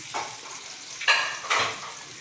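Food sautéing in a pan with a soft continuous sizzle, broken by three scraping stirs of a spatula, the last two louder and closer.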